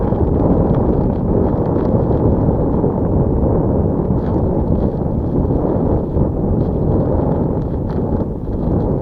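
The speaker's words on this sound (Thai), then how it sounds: "ลมแรงมากครับ" Strong wind roars across open water during a boat fishing trip, a loud, constant rumble battering the microphone with no pauses.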